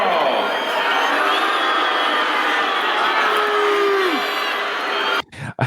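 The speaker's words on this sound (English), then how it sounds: "Look at the vitriol booing." A big arena crowd in the boxing film Rocky IV jeers at the ring entrance of the Soviet fighter Ivan Drago, a loud, dense, unbroken roar of many voices that cuts off abruptly near the end.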